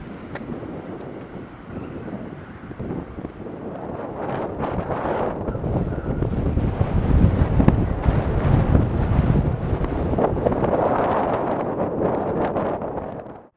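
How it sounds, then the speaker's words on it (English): Wind rushes steadily across a rocky hiking trail, a broad roaring buffet that swells louder through the middle and stays up close, with gusts hitting the microphone and no talking. "just the rushing sound of the wind"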